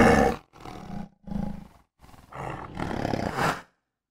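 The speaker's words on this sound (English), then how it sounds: "There's a different tiger here that we can load, and we can see how it sounds" Tiger roar from a sound design library loaded in Krotos Reformer: a short opening growl, then a string of separate snarling bursts that build into a long, loud, close roar before cutting off.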